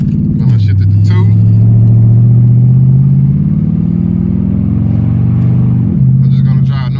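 A 5.7 Hemi engine on the move gives a loud, steady exhaust drone that drops in pitch as the gears change, with occasional crackle at the edges.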